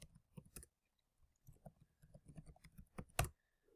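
Keys clack on a computer keyboard in short, irregular bursts during a WordPress server setup in a terminal, quiet and close, with pauses between groups and one sharper, louder click near the end.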